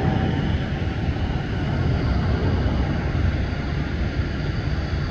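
A very large airliner landing at a Houston, Texas airport, heard as a continuous broad engine roar and rushing noise that stays loud and steady throughout, with no talking over it.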